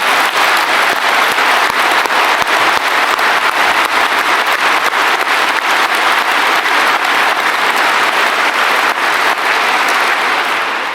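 Loud, continuous crowd applause at a Brexit Party rally in Exeter, a dense wall of clapping from a large audience that stays strong and even for over ten seconds without any voice on top.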